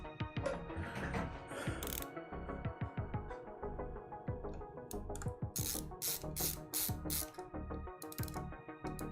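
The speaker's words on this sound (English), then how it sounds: "I'm putting a non-LTT bit in my LTT screwdriver" A ratcheting LTT screwdriver fitted with a flathead bit clicks steadily and close up, its rapid pawl ticks coming in repeated bursts with small metallic rattles between them.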